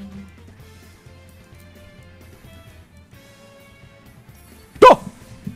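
A dog unit in an auto-battler video game gives a single sharp, loud bark near the end, after a stretch of quiet game sounds.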